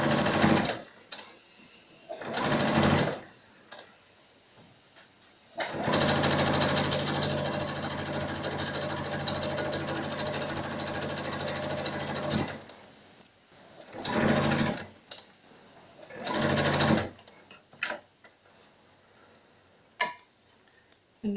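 Sewing machine stitching a pleated face mask in short bursts, then one long continuous run, with rapid mechanical ticking and pauses between passes.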